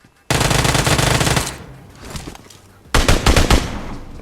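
Rapid Uzi submachine gun fire in PUBG comes in two loud, close bursts, the first long and sustained and the second shorter and choppier, with a quieter clatter between them.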